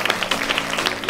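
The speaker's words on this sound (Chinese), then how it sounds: "我们再给他一次热烈的掌声鼓励" A classroom of students gives a brief burst of warm applause for a pupil named Xiaomai. The clapping is close, dense and steady, with no voices over it.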